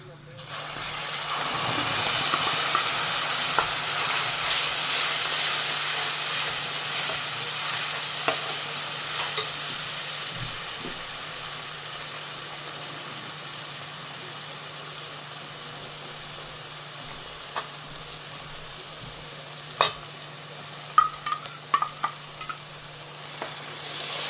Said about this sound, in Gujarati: ચાલો હવે નાખી દેવાનો છે મસાલો